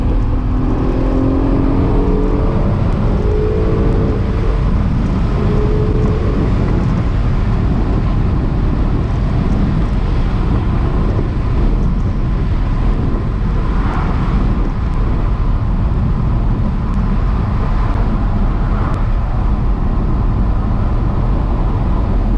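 An Acura NSX engine drones loudly and continuously while driving, its pitch rising as it revs and then stepping down at quick, crisp gear changes, with steady road and wind rush underneath.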